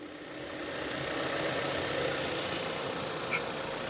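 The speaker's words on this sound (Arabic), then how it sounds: "شايفين دلوقتي الموتور داير اهو زي ما انتم سامعين اهو" A car engine runs steadily at idle during a valve-damage inspection, a continuous mid-level hum with a faint knocking tone, close and alone with no talk over it.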